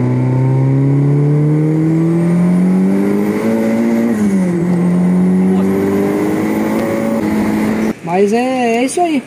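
A turbocharged VW Gol GTS making around 300 to 350 horsepower on 1 kg of boost without booster revs hard through second gear, shifts, and pulls through third. The engine is loud and close, and a voice briefly follows at the end.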